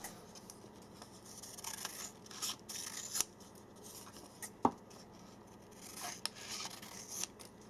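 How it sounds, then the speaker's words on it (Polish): Scissors cut through paper wrapped around a SIM card, giving a string of faint, irregular snips and rubbing scrapes. A few crisper clips stand out over about eight seconds, with no voices. "pewnymi ruchami tniemy według tej kreski, przytrzymując oczywiście mocno e, ściśniętą kartę SIM z tą naszą kartką papieru"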